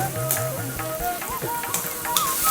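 Green chillies fry in hot coconut oil, giving a steady close sizzle and crackle under faint musical tones.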